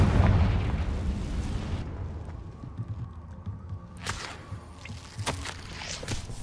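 A Confringo spell explodes in Hogwarts Legacy, a loud booming blast with a long rumbling tail fading over several seconds, followed by a few sharper cracks and pops.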